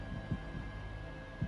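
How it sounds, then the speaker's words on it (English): Slow heartbeat coming from a toilet in a Dreams PS4 survival horror game: muffled low thumps, a couple of beats spaced about a second apart, over a steady electronic hum. "I'm hearing a heartbeat from the toilet."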